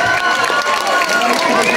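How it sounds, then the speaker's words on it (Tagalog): Pageant audience cheering and clapping loudly and steadily as a contestant is introduced, a dense close wash of applause and shouts with no pauses. "Bakit hindi mo natin sabay-sabay hiyawan at palakpakan?"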